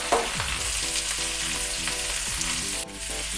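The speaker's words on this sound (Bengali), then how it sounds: "কুমড়োটা দিয়ে একটু নাড়াচাড়া করতে হবে।" Pumpkin and potato pieces stir-fried in a hot pan for a Bengali kumro posto give a steady, close sizzle, with stirring scrapes and no talking.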